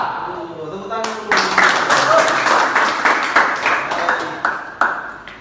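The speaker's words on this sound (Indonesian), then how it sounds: "Tepuk tangan dulu." Vocational high school students clapping in a classroom, a burst of hand claps starting after a brief voice, uneven and moderately loud with some sharper individual claps standing out toward the end.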